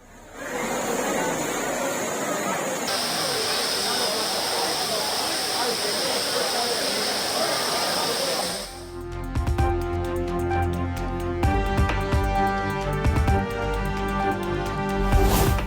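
Water pours down Courtallam waterfall in a steady, loud rushing roar for the first half, then the sound cuts to tonal, music-like material.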